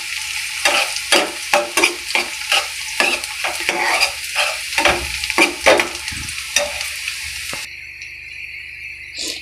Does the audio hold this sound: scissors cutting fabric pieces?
no